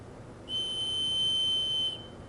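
An improperly connected pressurized fitting on a building's water or piping system whistles from a leak, giving a steady, shrill high-pitched tone that starts abruptly, holds for about a second and a half, then cuts off, fairly faint against quiet room noise.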